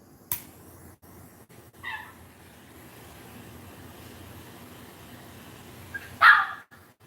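Bowie the dog barking indoors, two or three short barks, one faint early and a sharper, louder bark near the end, separated by a long quiet stretch.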